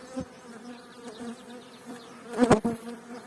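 Honey bees buzz close by as bee colonies are moved from one apiary to another, a faint steady drone with a louder burst of buzzing as a bee passes near.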